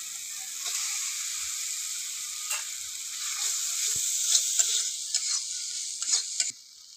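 Chopped tomato and slit green chilies fry with cumin and coriander powder in a pan for bata fish curry, a steady close sizzle with scattered stirring clicks and scrapes, no talk.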